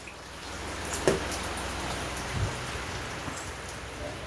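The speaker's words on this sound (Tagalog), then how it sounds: "Ay walang pasok ngayon at maulan." Steady rain falls outdoors as a soft, even patter with a faint hiss and a couple of closer drips, quiet and unbroken by voices.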